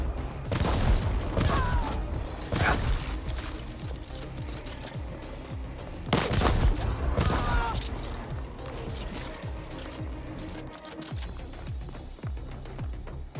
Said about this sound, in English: So far, riot gun is looking okay.